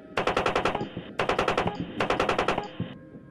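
Rapid bursts from a 30 mm cannon on an Apache attack helicopter in the military shooter game Squad (modded), three close, loud strings of evenly spaced shots with short gaps between them.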